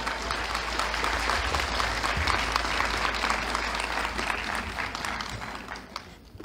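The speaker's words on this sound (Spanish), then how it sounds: "Démosle un fuerte aplauso." A Diocesan Eucharistic Congress audience bursts into strong, sustained applause for a priest speaker, dense clapping that fills the room and begins to thin toward the end.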